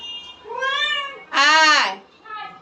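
A cat in heat meows loudly and close by, giving three drawn-out, wavering cries with a pause between each and the middle one strongest.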